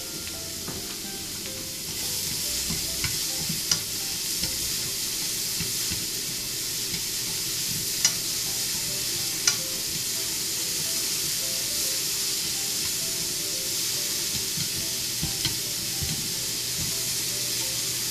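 Shredded carrots for ninjin shirishiri, lightly salted, stir-frying in a pan with a loud, steady sizzling hiss and occasional faint clicks of stirring throughout.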